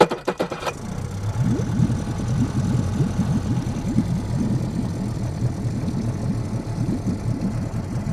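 An outboard boat motor with electric start cranks briefly, then catches and settles into a steady, close, loud idle with a rapid low throb that continues to the end.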